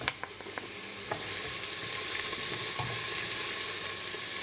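Cumin, turmeric, onion and ginger garlic paste sizzling in a hot pan for Trini chickpea doubles, a steady close frying hiss with a few sharp stirring clicks and scrapes at the start.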